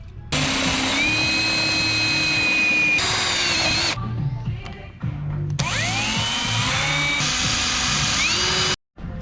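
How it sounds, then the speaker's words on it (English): A power drill boring mounting holes for a light on a Skyline race car build, in several loud, close bursts of whining motor that speed up and fall away with short pauses between them. "I'll remark it and then drill the holes"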